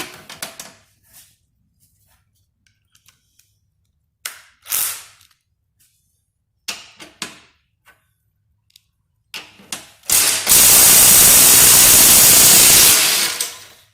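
Makita CXT 12-volt impact driver with a 15/16 socket breaking loose a 5/8 bolt torqued to 150 ft-lb: scattered clicks and handling knocks, then a loud close burst of rapid hammering lasting about three seconds before stopping.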